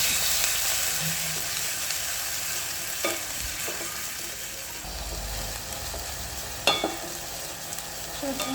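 Onions frying in mustard oil in a pan, a continuous soft sizzle with a few sharp scraping stirs and clinks, close and steady with no talking.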